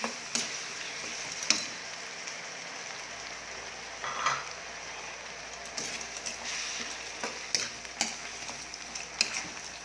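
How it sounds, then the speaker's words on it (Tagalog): Shrimp paste (alamang) being sautéed in a pan, a quiet, low sizzle broken by intermittent scraping and clicking stirs of a utensil against the pan. "Pakagisa po natin ng mabuti ang alamang"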